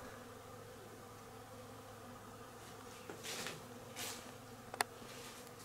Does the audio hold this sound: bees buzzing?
yes